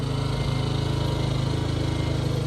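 A portable generator engine runs powering a room during a power outage, a steady close droning chug with a fast even pulse and no variation in speed, loud and alone.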